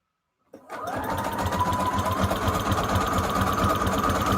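A sewing machine stitching through a scrap-fabric junk journal cover starts abruptly and runs at a steady, loud, close whir with a rapid mechanical needle rhythm, no voices over it.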